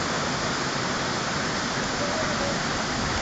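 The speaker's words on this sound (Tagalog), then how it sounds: "Ito mismo sa talon." A waterfall on Mount Famy roars steadily and loudly. The rush of water is dense and unbroken, with no voices over it.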